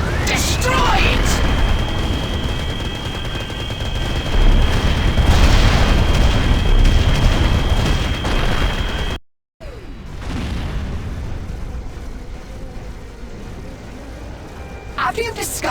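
Francodyne headquarters building being torn apart in Destroy All Humans: Path of the Furon, with loud sustained booms and rumbling destruction, a brief drop to silence, then continued crumbling noise; a voice speaks over it.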